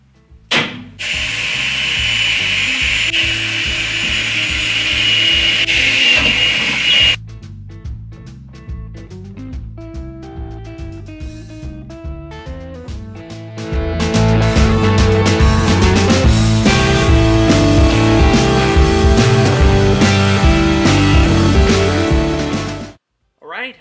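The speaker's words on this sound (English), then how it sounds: "Cross fingers on this, drilling these, it's 1/8 hole." A power drill whirs loudly in long sustained runs, boring 1/8-inch holes in a hearse, pausing briefly between holes, with grinding bite as the bit cuts through material.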